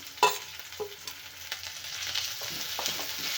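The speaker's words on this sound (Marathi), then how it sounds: "आता आपण कढीपत्ता आणि कोथिंबीर पण टाकून घेऊया" Curry leaves and coriander dropped into hot oil, starting with a sharp crackle and clink, then a sizzle that swells and holds steady, close by and without speech.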